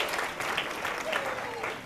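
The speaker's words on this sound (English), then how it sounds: "One more round of applause for Joel." Applause from a comedy club audience on a Christmas Eve stand-up night, a steady clapping wash of moderate level with some talk mixed in.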